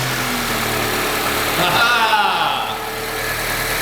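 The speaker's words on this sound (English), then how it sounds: "That engine runs nice and smooth." A car engine idles steadily with a low mechanical hum, fairly close, while a voice talks over it briefly in the middle.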